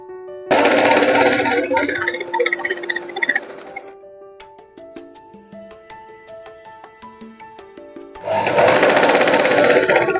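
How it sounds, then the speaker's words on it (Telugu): A sewing machine stitches along a 3-inch by 30-inch cloth strip for blouse remodeling, giving a loud rapid mechanical whir that starts, fades into scattered clicks and light handling noise, then surges back into a fast steady run. "దీన్ని ఒకసారి కుట్టు వేసుకోవాలి"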